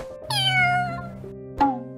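Two meows from cartoon kitties in the Avatar World game: a long rising-falling cry followed by a shorter, sharper one, clear and close with nothing behind them.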